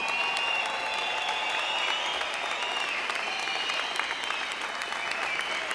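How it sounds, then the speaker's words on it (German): Sustained applause from the crowd at a women's professional boxing match in Hamburg after ten rounds, steady dense clapping filling the arena with no gaps. "nach 10 Runden nochmal einen großen Applaus für beide Boxerinnen"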